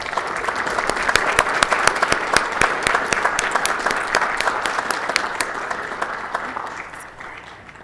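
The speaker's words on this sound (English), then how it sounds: "please join me in giving a great round of applause and celebration of FBLA Week" A council meeting audience applauding to celebrate FBLA Week, loud, close, dense clapping with crisp individual claps that holds strong and then tapers off near the end.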